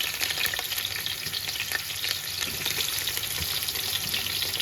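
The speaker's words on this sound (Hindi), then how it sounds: "ऑयल हमारा जो है वो गर्म हो चुका है। अब इसमें डालूंगी मैं ये प्याज।" Onions frying in hot oil for chicken tehri, giving a steady, dense sizzle close up with faint stirring scrapes and no talk.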